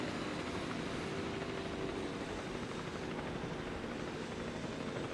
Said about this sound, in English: The helicopter will land on the landing pad.